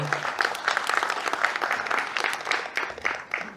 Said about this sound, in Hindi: तो सबसे पहले तो तालियां आप सबके लिए होनी चाहिए।